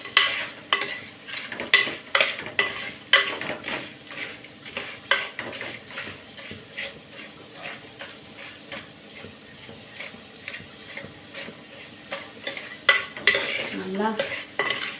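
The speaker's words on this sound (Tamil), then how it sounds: "இந்த நான் நல்லா வறுத்துக்கிறேன்." Crab curry ingredients frying in oil in a pan, with repeated scraping and stirring of a spoon against the pan over a steady sizzle, close and continuous throughout with no talk.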